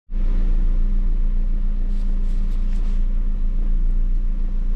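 An Audi 100 C4 with a swapped-in AJL engine idles warm and steady, a close, even low rumble with a constant hum and no talking.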